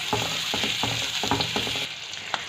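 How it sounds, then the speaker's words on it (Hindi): Potatoes frying in a pan over a low flame, for a spiced yogurt potato gravy, give a steady close sizzle with a few scraping stir strokes and no talk. "ये तो फ्राई हो रहे हैं।"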